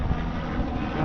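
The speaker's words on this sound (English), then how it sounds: "That's a police helicopter right there." A police helicopter passes overhead in Tampa, making a steady, loud, broadband rumble mixed with gusty wind buffeting the microphone. No one speaks.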